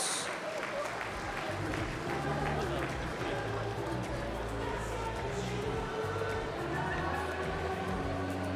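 An awards ceremony audience applauds continuously in a large hall, a dense steady wash of clapping that holds at an even level throughout.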